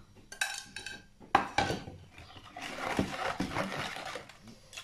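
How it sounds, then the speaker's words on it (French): Semolina cake batter of eggs, sugar, milk and vanilla being stirred in a bowl, with irregular clinks and scrapes of a utensil against the dish, close and moderately loud, with some talking. "et on va remuer tout ça."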